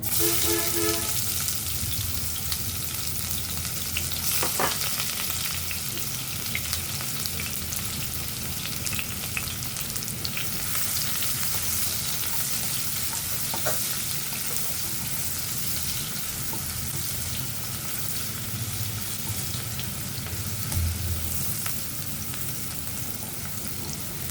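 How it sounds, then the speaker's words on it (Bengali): Chopped onions fry in hot oil in a pan, a continuous close crackling sizzle with occasional sharper pops and faint stirring, steady throughout and free of speech. "তেলটা গরম হয়ে আসলে আমি পেঁয়াজ কুচি দেব"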